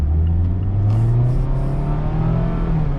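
A 2022-2023 Mazda MX-5 Miata RF GT automatic, rear-wheel drive and about 2,700 pounds, revs up under moderate throttle toward 5,000 rpm, its engine note climbing steadily in a loud, continuous drone heard from inside the cabin.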